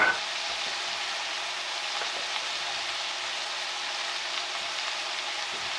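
Onions fry in butter in a pan on a stove, a continuous close sizzle with light crackle that holds steady throughout, with no talking.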